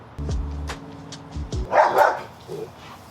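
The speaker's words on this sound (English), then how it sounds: "Kelly, no barking" A pet dog named Kelly gives a few sharp barks in a room during home priming and sanding work, short loud woofs early on followed by a burst of yapping, with a little background noise.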